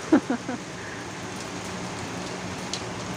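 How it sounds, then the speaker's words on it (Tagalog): Steady rain pours down during a typhoon in Hong Kong, a dense even hiss of falling water with a few sharp drips and taps near the start, heard up close. "umuulan sa Hong Kong. May bagyo."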